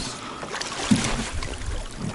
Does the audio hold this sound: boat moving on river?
yes